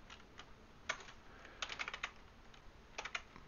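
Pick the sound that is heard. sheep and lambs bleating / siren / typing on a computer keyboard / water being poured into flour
typing on a computer keyboard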